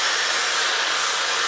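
A Dyson Supersonic hair dryer runs at lowered airflow, giving a steady, close, breathy whoosh with a smooth high hiss and little low rumble, continuous and without talk.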